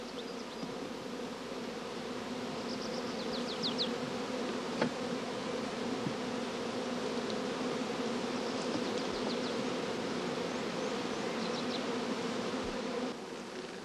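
Honeybees buzz steadily around an open hive during a swarm-control hive inspection, a dense, continuous drone up close with a few brief louder passes and no voices.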